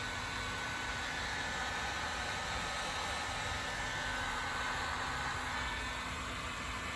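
A heat gun blows a steady, even roar of hot air onto heat shrink tubing over a car wiring connector on a BMW 330e. The broadband hiss holds constant throughout with no talking.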